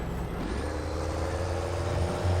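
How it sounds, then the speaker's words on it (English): A big truck idles loudly with a steady low engine rumble and a hissing air-brake release in Farming Simulator 22, constant and close with no talk. "Get away from the loud truck."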